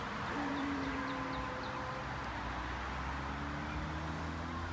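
A solar-powered Halloween werewolf prop gives a long, wavering mechanical howl that rises and falls over steady outdoor traffic rumble, with faint bird chirps in the background.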